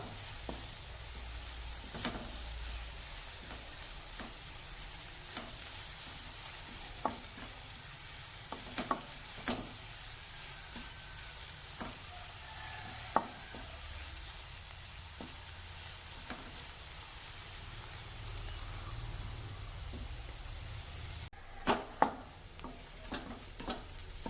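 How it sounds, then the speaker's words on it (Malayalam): Onion and chili-powder masala sautéing in a pan for masala dosa filling, a soft steady sizzle with scattered light spoon scrapes and taps, quiet and close with no talking. "അപ്പം അത് ഇട്ട് നല്ല പോലെ ഒന്ന് വഴറ്റിയെടുക്കുന്നത്."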